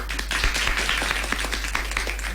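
Applause on a children's radio program for tabla accompanist Babu Arshad, many hands clapping briskly and continuously, close and fairly loud, with no voices over it.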